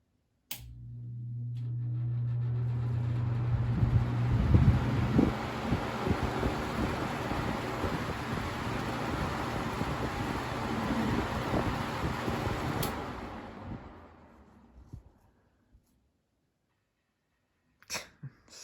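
A 1985-86 Lasko box fan switches on and spins up to a steady, broadband whoosh of moving air that holds for about twelve seconds before winding down, with a few faint clicks near the end.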